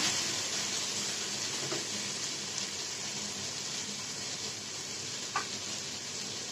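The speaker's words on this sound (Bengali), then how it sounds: "এখন দিয়ে দিচ্ছি মুরগিটা।" Chicken pieces, including a leg piece, added to a pan of half-fried onions, ginger and garlic, make a steady, moderately faint sizzle and crackle with a single small clink.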